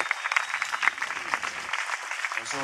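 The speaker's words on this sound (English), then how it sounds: "give him a nice round of applause for flying his guitar" Applause from a concert crowd for a guitarist at a live oldies show, moderate and steady, brief and mid-distance, with some voices and cheers mixed in.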